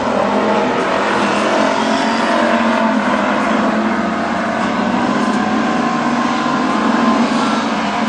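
Straight stock cars race in a heat at Princeton Speedway, their engines roaring in a dense, continuous, loud wall of motor noise that stays steady throughout with no clear voices.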